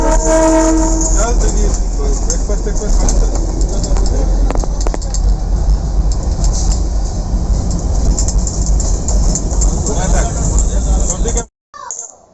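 The Darjeeling toy train rumbles along in light drizzle, a loud continuous rolling roar with a sustained horn blast near the start, heard from on board until it cuts off abruptly near the end.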